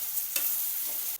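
A dry potato and bell pepper curry with onion-garlic masala and chopped coriander is sautéed in a pan, giving a brief close sizzle with a couple of quick stirring scrapes.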